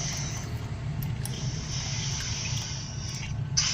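Motor oil pours from the drain hole of a Keeway Cafe Racer 152 motorcycle once the drain bolt is out, a steady liquid stream running continuously and fairly close, with no talking over it.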